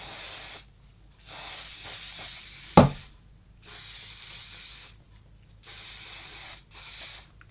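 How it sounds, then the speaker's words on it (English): Several long hissing bursts of aerosol hairspray sprayed onto curly hair, close by, separated by short pauses, with a brief sharp click or tap partway through. "you want to use your hairspray, and you want to make sure you spray every single side"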